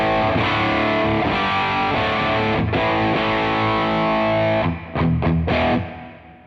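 Cornford Hellcat guitar amp on its overdrive channel, thick sustained distorted chords ringing loud and continuous, with a few short choppy stabs and cut-offs near the end before fading out.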